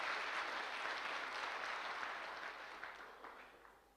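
A crowd applauds with steady, full clapping that starts strong and gradually thins and fades toward the end.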